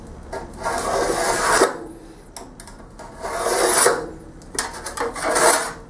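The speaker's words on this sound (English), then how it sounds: "I'm actually gonna put a straight edge on it and I'll scribe it" A steel scribe drawn repeatedly along a straight edge on a workpiece in an aluminum welding shop, giving three loud raspy scraping strokes with short pauses between them, no talk.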